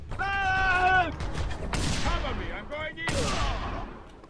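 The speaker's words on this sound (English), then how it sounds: "That was a rocket launcher, wasn't it?" Rocket launcher fire in the video game Just Cause 2 lands as two loud, harsh explosive bursts, each trailing off into rumbling noise, after a short stretch of shouting voices.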